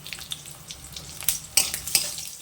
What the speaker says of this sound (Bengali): তেল গরম হয়ে গেলে কিছুটা সম্বারা, 3 টুকরো শুকনো লঙ্কা, কেটে রাখা কিছুটা লঙ্কা দিয়ে দিলাম।